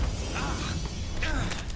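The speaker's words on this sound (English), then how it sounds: "Knob ain't even moving," Stuck door knob rattling and creaking in the video game Murdered: Soul Suspect, a steady close mechanical creak with a few sharper clicks over a constant game background hum.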